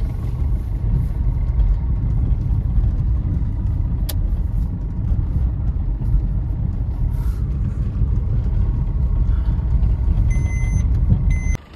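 Swaraj 963 or John Deere 5210 tractor driven through thick fog at night, a steady loud low engine rumble running throughout with faint high beeping tones near the end.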